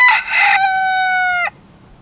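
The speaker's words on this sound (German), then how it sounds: "Ach, ein Hahn natürlich sogar." A rooster crows once nearby, a loud harmonic call that rises at the start and then holds a long, steady final note before cutting off abruptly, with quiet outdoor air behind it.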